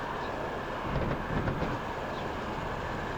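A train in the Transport Fever 2 video game runs along the rails with a steady, continuous rolling rumble, a faint clickety-clack swelling briefly in the middle, and no voices.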